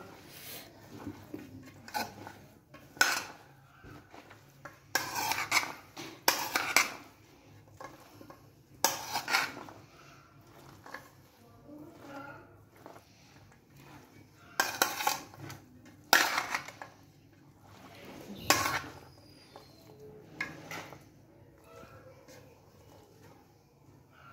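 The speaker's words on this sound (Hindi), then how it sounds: "इसको अच्छे तरीके से आप मिक्स कर लें सारी की सारी चाट को।" A spoon mixes chana chaat with sauce in a bowl, making intermittent clinks and scrapes in short bursts separated by quiet pauses, close and without talk.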